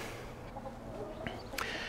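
Faint chickens give a couple of short clucks near the end over a quiet outdoor background.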